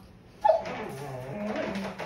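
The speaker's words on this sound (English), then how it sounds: "that's my dog, sorry." Dog whimpering indoors: a brief high whine followed by soft, faint whimpering sounds over a quiet room, with no talk during the sound.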